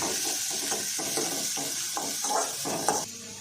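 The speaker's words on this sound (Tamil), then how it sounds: "இப்போ வெங்காயம் அது கூட போடுறேன். இது கொஞ்சம் வதங்க." Onions, ginger and green chilli sauté in a pan with a continuous soft sizzle, broken by repeated scraping stirs at a moderate, steady pace.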